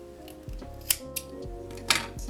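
Scissors snip through a knitting yarn tail left for sewing up an ear warmer, two or three close, crisp cuts with soft handling noise in between, quiet and without voices.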